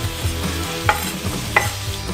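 Onion sizzling in caramelized sugar in a hot pan while it is stirred, with a couple of sharp clicks of a utensil against the pot.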